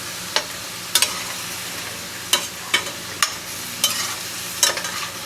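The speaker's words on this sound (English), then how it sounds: "Gonna add our potato and carrot in." Potato and carrot being stirred into chicken cooking in a pot without oil, sharp spoon scrapes and clanks at irregular intervals over a faint steady sizzle, close by.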